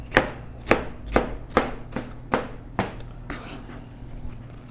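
Chiles being chopped with a knife on a cutting board, a series of about eight sharp, evenly spaced knife strikes, close and loud, growing softer at the end.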